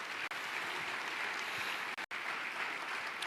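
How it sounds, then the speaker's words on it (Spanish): Church congregation applauding, a faint, dense, wash-like roar of clapping that carries on without a break, with a couple of brief dropouts where the sound cuts out. "Dale un fuerte aplauso a Dios"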